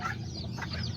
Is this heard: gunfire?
no